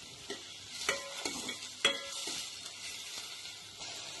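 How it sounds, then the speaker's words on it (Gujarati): Onions and tomatoes cooking in a pan are stirred with a utensil, producing a run of scraping knocks and clinks at an irregular pace over a low, steady sizzle. "હવે આ બધું આપણે બરાબર મિક્સ કરીશું આપણે થોડી વાર કાંદા અને ટામેટાને થવા દઈશું"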